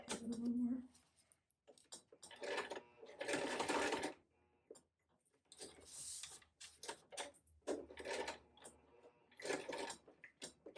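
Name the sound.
sewing machine stitching fabric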